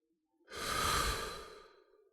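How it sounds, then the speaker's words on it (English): Single deep breath drawn in through the nose, a close, airy rushing inhale that swells and fades over about a second, alone in quiet. "take a deep breath. In through the nose"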